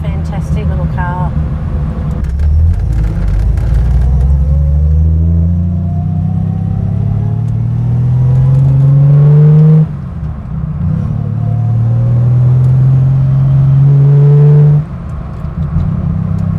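A Holden Torana GTR XU1 engine and exhaust drones up through the gears while the car is driven, with rising revs, a gear change near the middle and a second climb. Voices talk over the engine at times.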